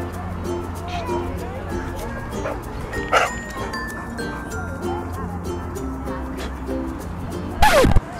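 A dog barking and yipping outdoors, heard as faint, scattered yips and small whimpers under ongoing speech and background noise, with one louder, sharper yelp near the end.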